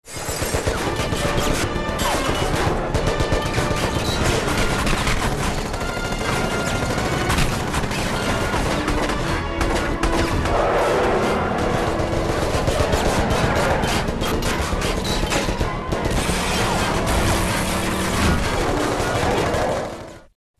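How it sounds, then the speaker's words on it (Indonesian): Gunfire in an action film's car chase scene, dense and continuous bursts and crashes packed together at high volume, running without a break for about twenty seconds before cutting off. "Anak buah Samidi berusaha menembaki John dari kejauhan, namun tembakan mereka meleset terus."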